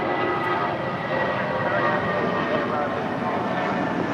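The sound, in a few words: Spirit Airlines Airbus A320 jet departing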